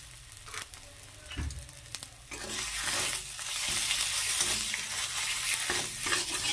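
Coriander leaf bharta being stir-fried dry in a kadai, with a steady close sizzle and frying hiss that swells partway through, punctuated by scraping stirs against the pan.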